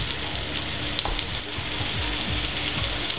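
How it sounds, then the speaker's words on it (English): Italian meatballs browning in olive oil in a hot pan, a few at a time, give off a steady, close sizzle with light crackles throughout and no talking. "What we're going to do now is brown off our meatballs."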